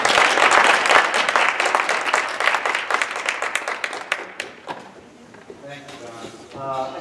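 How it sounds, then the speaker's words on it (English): An audience at an education forum applauds as speaker Dave Gamberg is brought up, a loud burst of clapping that gradually thins and fades over several seconds, with a little talk and room noise near the end. "let's bring Dave Gamberg up with a nice round of applause"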